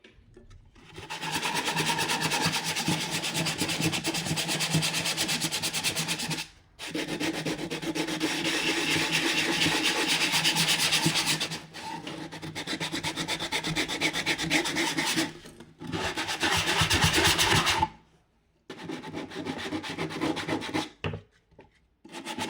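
A wooden ukulele is sanded by hand with 120 grit sandpaper, giving loud, close rasping strokes in long sustained bursts separated by brief pauses.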